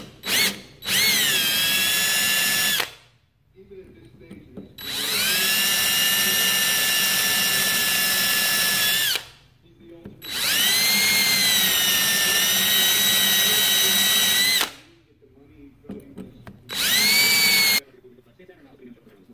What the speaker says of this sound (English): So I'm going to try to drill that out with a little drill bit